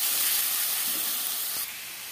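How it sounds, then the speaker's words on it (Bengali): Rice boiling in a pot gives off a continuous steady hiss of steam and bubbling, close and fairly loud, easing slightly near the end. "ভাতটা ফুটে উঠতে কতটা সময় লাগলো গো, সবে মাত্র ফুটে উঠেছে।"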